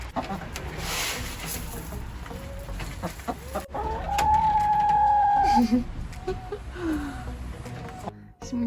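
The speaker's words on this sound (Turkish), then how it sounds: "Burada da tavukçıklarımız var." Chickens cluck and call outdoors on an overcast, rainy day, a few scattered bird sounds set against a brief steady tone and light background noise, with a person speaking at moments.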